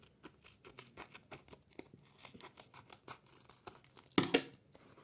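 Crinkly paper rustling and small tearing sounds, a series of close, soft crackles ending in a louder, sharp rip.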